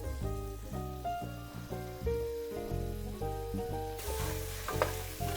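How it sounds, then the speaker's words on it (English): Butter and olive oil sizzle steadily in a hot pan, a continuous crackling hiss with music playing underneath. "You can hear that sizzling almost immediately."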